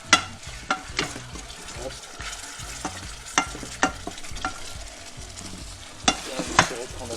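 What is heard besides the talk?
stirring vegetables frying in pan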